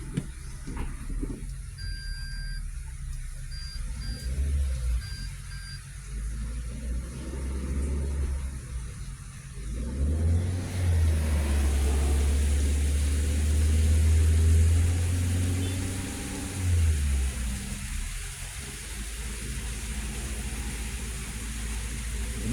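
A manual car's engine revs and rumbles steadily while the car reverses during a beginner driving lesson, rising to a louder sustained drone midway and easing back, with no talk over it.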